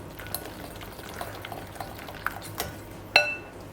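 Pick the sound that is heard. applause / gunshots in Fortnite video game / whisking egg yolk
whisking egg yolk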